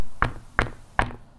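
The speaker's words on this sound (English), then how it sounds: "I want to knock on it one more time." Three evenly spaced knocks on a homemade shadow-play box, close and moderately loud with short hollow taps and no talk.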